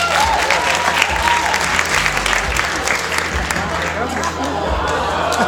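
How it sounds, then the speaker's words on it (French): A student show crowd applauds an assistant named Rose, a loud continuous wash of clapping and cheering that carries through the whole clip with low rhythmic thumps underneath. "Mesdames et messieurs, veuillez applaudir Rose."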